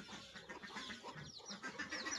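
Chickens cluck faintly at a village farm with ducks, cows and goats during feeding time. Soft, scattered clucks sit over a low ambient background.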